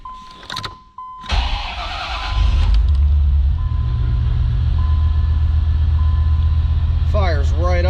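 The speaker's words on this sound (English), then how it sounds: "Step inside and fire this thing up though so you guys can hear that motor." A 1988 Corvette C4 with a 5.7L L98 V8 cranks briefly and fires up, then settles into a loud, steady idle close by, after a few electronic chimes and with a short squeaky sound near the end.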